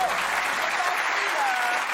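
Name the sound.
audience applause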